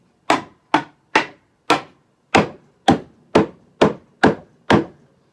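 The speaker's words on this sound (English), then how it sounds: "it's a good idea to have a rubber mallet or a hammer, and you can just tap them together" Ten sharp, solid rubber mallet taps on wooden beehive box joints at a steady, unhurried pace, each a crisp knock that fades quickly into silence.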